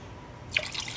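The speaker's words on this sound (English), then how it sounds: "All right, guys, we're just going to add our water in. Just right on top." Water poured into a pot for chicken soup, a brief soft splash and trickle arriving halfway through after a quiet start, close and fairly faint.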